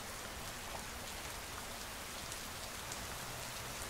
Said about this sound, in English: Just the sound of relentless rain.